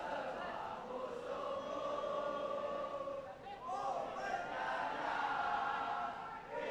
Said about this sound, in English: I wish you could see the crowd here, all in their yellow shirts, swaying, singing, supporting their team.